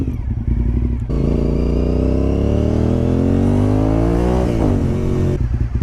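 A Honda RC51 SP2 motorcycle engine roars loud and close, its pitch climbing steadily through a long rev before dropping off.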